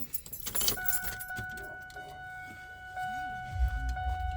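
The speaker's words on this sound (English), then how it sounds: "I just have to turn the key on" Car keys jangle and a key turns in the ignition of a 2001 Ford Expedition, with metallic clinks and a steady electronic chime tone sounding close by inside the vehicle.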